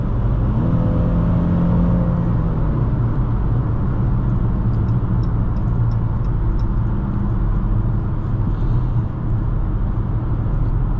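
A 2023 Chrysler 300 Touring L AWD engine roars steadily while accelerating, heard from inside the car, a dense low rumble with a brief rising whine early on, no talking.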